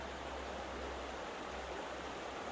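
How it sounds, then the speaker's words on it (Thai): A steady, continuous rush of a stream flowing behind a village in Thailand, close and even throughout, with no other sounds standing out. "เป็นลำธารหลังหมู่บ้านค่ะ"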